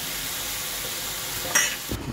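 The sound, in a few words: boneless chicken frying in a pan for biryani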